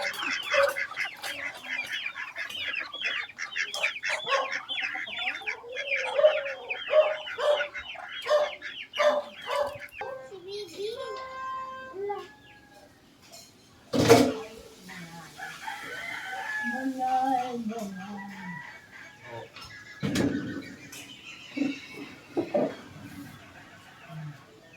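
Chickens and roosters in a village barnyard where ducks are also kept: busy clucking, a few rooster crows and a sharp squawk, moderately close, with people talking intermittently.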